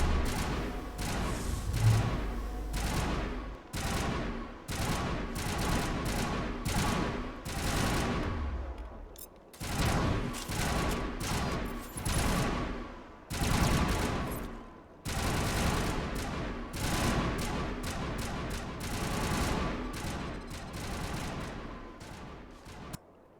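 Rapid coordinated crossfire in the Mass Effect video game: bursts of loud gunfire and thudding impacts repeat almost without pause, a dense, sustained barrage with brief gaps between volleys.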